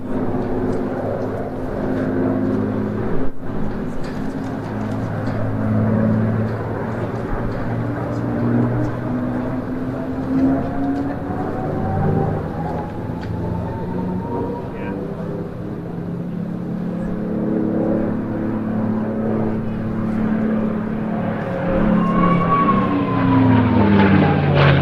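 Aircraft at the Jersey International Air Display, a steady drone with slowly shifting engine pitch heard at a distance under an announcer's commentary throughout.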